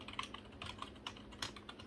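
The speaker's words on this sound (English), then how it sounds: "This is much quieter than a mechanical keyboard, and we'll listen to that here for just a second." Keys clatter in a quick, fairly quiet run on a GameStop RGB wired keyboard, a soft membrane-style board rather than a mechanical one, with steady close-up clicks and no voices.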